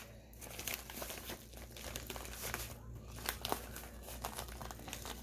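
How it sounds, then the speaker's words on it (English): A plastic polymailer holding bubble-wrapped items is folded over, giving a steady close crinkling and rustling of plastic with a few sharper crackles throughout. "I'm going to stick these down in this Polymailer. And then I'm just going to fold this over."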